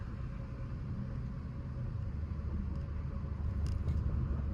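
BMW 750i twin-turbo engine and exhaust with a muffler delete, a steady low, deep rumble droning evenly throughout, close and fairly loud with no talk.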